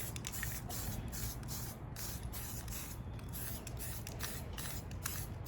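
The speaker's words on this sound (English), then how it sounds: "it's time to start adding some color. Make sure she's going to spray right." Aerosol spray paint hisses in quick repeated bursts over a Hobao Nitro HyperVT7 RC car body, close and steady, with short pauses between passes.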